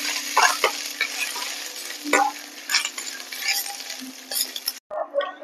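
Ginger sizzles in hot mustard oil in a pan with dried chillies while a utensil stirs and scrapes it, a close, continuous frying hiss broken by repeated clinks and scrapes, with no voices.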